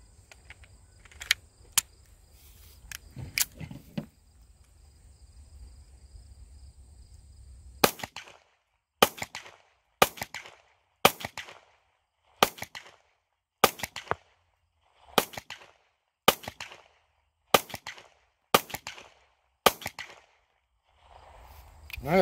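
Taurus GX4XL 9mm pistol fired at an outdoor range: sharp, evenly spaced shots follow a few scattered early pops, with about a dozen cracks ringing out at a steady rhythm, each decaying quickly.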